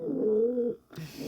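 Two female pigeons in a backyard loft coo: one steady, drawn-out low coo, a brief pause, then a second coo starting, close and clear.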